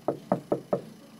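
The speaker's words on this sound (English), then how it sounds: "Knock, knock." Four evenly spaced, crisp knocks land on a door at a nightclub entrance, close and clear, with quiet in between.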